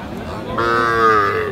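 A single long, loud moo from a young dairy cow at a cattle market, rising and holding close by, over a low background of farm noise.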